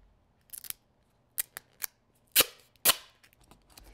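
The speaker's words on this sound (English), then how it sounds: "I'm actually going to cut this into skinny strips" Scissors snip duct tape into narrow strips, a series of sharp, separate cuts—several quick snips, then louder single ones—close and clear with no talking.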